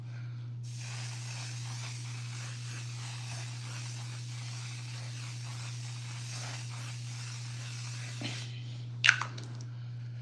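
A setting spray hisses in one long, steady, close burst lasting several seconds over a constant low electrical hum, followed by a couple of brief clicks and handling knocks.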